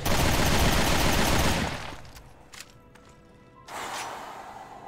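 Dense, loud automatic gunfire in Resident Evil Revelations 2 fills the opening, then gives way to quieter game ambience with a single sharp shot and a later surge of noise.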